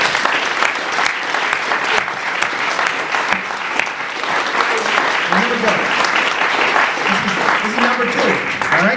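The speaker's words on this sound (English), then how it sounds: "Let's give it a round of applause." At a 50th anniversary celebration of an institution, a large crowd claps in a thick, continuous round of applause lasting the whole stretch, with some voices faintly mixed in toward the end.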